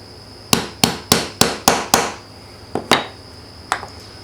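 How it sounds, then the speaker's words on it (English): A 1/8 inch punch is tapped into a Ruger Gen 1 LCP pistol during a trigger kit install, making a quick run of six sharp metallic hammer strikes followed by three more spaced taps, loud and close. "we're going to finish that off with a 1/8 inch punch"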